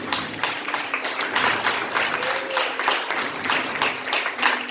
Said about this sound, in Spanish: Y si le aplaudí, apláudale a Dios